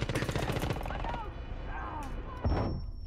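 Rapid automatic gunfire in Rainbow Six Siege, a dense burst of close shots in the first second, then scattered shots and a loud impact near the end, with a player talking over it.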